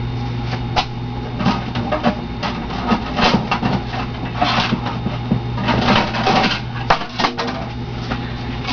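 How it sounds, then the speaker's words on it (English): Die cutting machine, a Cuttlebug-style cutter, pressing chipboard sandwiched between acrylic plates: a steady mechanical hum with repeated clicking and rattling clatter at close range, no talking. "So I'm just going to put it right here in my die cutting machine."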